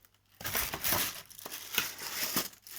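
Cardboard and plastic packaging crinkles and rustles as a metal desktop microphone stand is unboxed, with bursts of crumpling and tearing close to the microphone and short pauses between handling sounds.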